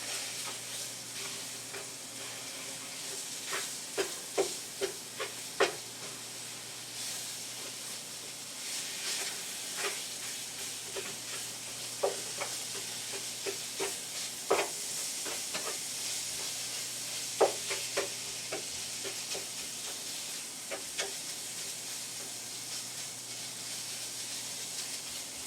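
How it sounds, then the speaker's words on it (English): Lean ground pork fries in olive oil in a pan, a steady broad sizzle with repeated scraping and tapping as a utensil breaks up and stirs the meat, close and continuous with no talk. "Break up the pork."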